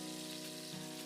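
Tofu fries in oil with onion and garlic, a soft steady sizzle that stays even across the brief moment and is heard alone without voices.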